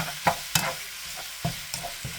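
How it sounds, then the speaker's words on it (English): Food sautéing and browning in a pan with onion and garlic, with a few short stirring scrapes and soft sizzling bursts, close and fairly quiet, no talking. "sauteed up and browned. Incorporated with the onion and the garlic."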